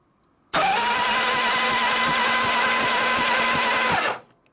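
A 1972 Harley FLH 98ci shovelhead stroker motor cranks over on the starter for about three and a half seconds. It makes a loud, steady whirring drone with a rapid rhythmic pulse, then stops abruptly.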